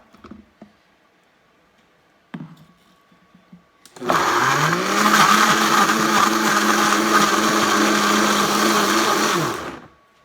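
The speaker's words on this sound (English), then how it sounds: "So here it is in the blender, and we're just going to chop that up like so." After a few faint clicks, a blender chopping raw onion whirs loudly and steadily for about six seconds, then cuts off abruptly.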